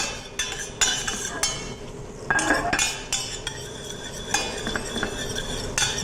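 Utensil scraping and clinking against a pan as garlic is stirred and sautéed for a farofa base, with irregular metallic taps and a soft background sizzle, close up and without talk.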